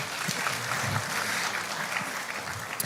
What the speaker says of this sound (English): Let's applaud him one more time.